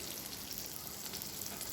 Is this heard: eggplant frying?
yes